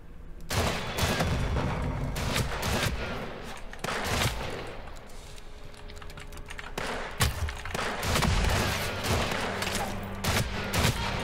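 Gunfire in the Wild West video game Weird West: loud, rapid shots and volleys, with sharp cracks standing out over a continuous battle din throughout.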